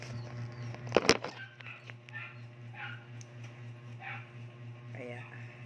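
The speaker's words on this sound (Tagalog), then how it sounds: "Yung aso ko, ayun o" A pet dog barks once sharply up close, followed by softer yips and whimpering, while a person talks nearby.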